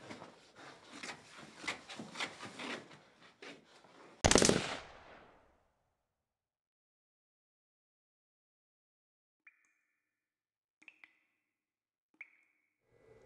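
Gunfire in the distance: a dense burst of rapid, muffled shots ending in one louder boom, followed by near silence with a few faint, brief clicks.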